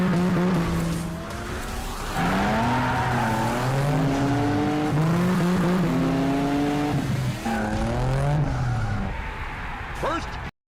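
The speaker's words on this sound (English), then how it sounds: "Slipstream is an awesome racing game" Racing car engines rev and climb through the gears in the Slipstream video game, with steady, loud stepped pitch rises and a squeal of tires near the end.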